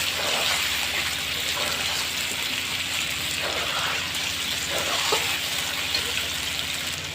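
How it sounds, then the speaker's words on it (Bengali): Chicken pieces coated in turmeric fry lightly in oil, giving a steady, close hiss and crackle that runs unbroken with a few faint stirring scrapes and no speech. "প্রথমে তো আমি মুরগির মাংসটা এভাবে হলুদ দিয়ে তেলের মধ্যে আমি ভেজে নেব হালকা একটু।"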